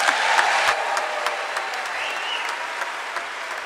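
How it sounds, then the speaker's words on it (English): A crowd in Glasgow breaks into a big round of applause for a speaker, dense steady clapping that fills the hall, starting loud and easing slightly, with no voices over it. "Would you give a big, huge round of applause to Kathleen Boyle down there?"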